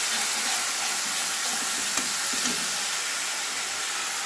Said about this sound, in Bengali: এবারে বাটা মশলাটা আমি দিয়ে দিলাম।